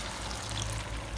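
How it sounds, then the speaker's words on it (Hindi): Half a cup of water is poured into chicken korma in a cooking pot, giving a short steady pouring and trickling wash. "मैं इसमें हाफ कप पानी डाल दूँगी।"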